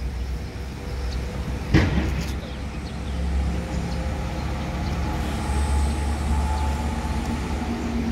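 Buses idle and move through the Alang-Alang Lebar bus terminal, giving a steady low engine rumble. A sharp knock comes near the start, and a faint higher whine rises later. Nobody speaks.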